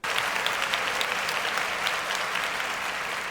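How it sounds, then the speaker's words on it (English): Steady applause from a crowd, a dense wash of clapping that holds evenly throughout. "That was just some applause."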